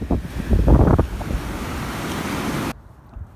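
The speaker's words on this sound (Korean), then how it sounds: "생각보다 너무 큰 파도가 와서 바지가 다 젖었어요." Winter ocean waves crash loudly onto a beach at Mangsang on Korea's east coast, a close, rushing roar of churning surf and wind that cuts off abruptly near the end.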